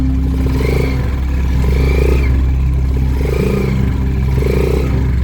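A running motorcycle engine with a new aftermarket transmission set drones steadily while a rising, whining gear tone repeats in cycles as the bike accelerates, loud and close.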